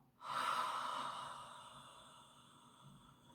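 One long, slow, audible exhale through the mouth, close and soft, starting abruptly and gradually tapering off over about three seconds in a quiet room.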